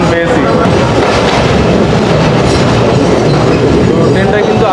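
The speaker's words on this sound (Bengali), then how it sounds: "তো ট্রেনটা কিন্তু আস্তে আস্তে রানিং হচ্ছে। এর শব্দ পাচ্ছেন আপনারা।" The Mohananda local train running between Khulna and Chuadanga in Bangladesh gives a loud, continuous rumble with rhythmic wheel clatter, heard from inside the carriage.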